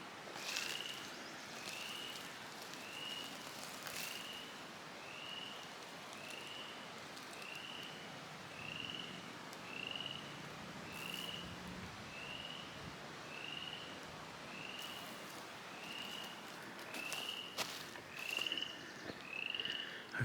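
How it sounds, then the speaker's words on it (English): Frogs croak repeatedly in a steady rhythm at a pond beside the Wheeler Creek hiking trail, the calls moderately close and continuing throughout with no talking over them. "I figure we'll come down here where I can hear the frogs"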